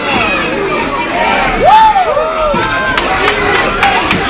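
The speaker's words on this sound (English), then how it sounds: "Crowd is in awe right now." A wrestling crowd at an Impact Wrestling TV taping in the Melrose Ballroom roars in awe, a dense wash of cheering with individual shouts and whoops rising and falling over the din.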